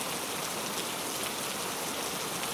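Steady, dense rainfall hissing continuously across the whole stretch, with no voices or other sounds.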